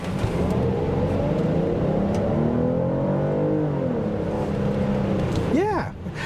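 A 2024 Kia Carnival SX minivan accelerates hard from a stop in sport mode, its engine note rising steadily through the gears as a loud interior drone, with a person talking over it.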